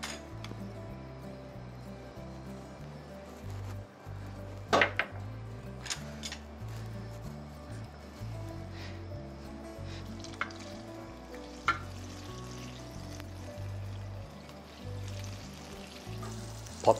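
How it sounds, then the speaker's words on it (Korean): Butter and cooking oil warm in a frying pan for a Spanish omelette, giving a steady low sizzle with occasional clinks of utensils against the pan. "팬에 버터와 식용유를 한 작은술씩 넣고 코팅해 주세요"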